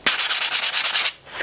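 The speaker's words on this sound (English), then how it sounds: "Any rough bits, I'm just going to sand those lightly back." A wet sanding pad rubs lightly over rough bits of ceramic glaze, a close, scratchy rasp in quick regular back-and-forth strokes, pausing briefly before another stroke begins.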